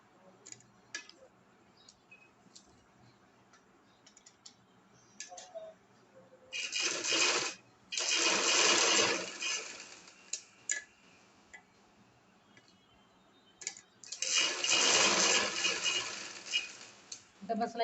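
A sewing machine runs a double line of stitching over folded shirt fabric with a cord tucked inside. It comes in two dense bursts of rapid stitching, each a couple of seconds long, with quiet handling sounds between them.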